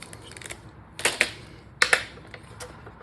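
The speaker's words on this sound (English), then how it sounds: "die cutting out the frames." A die cutting machine cuts card frames for a shaker card, giving a few sharp mechanical clacks and ratchety clicks in two close bursts over a quiet background.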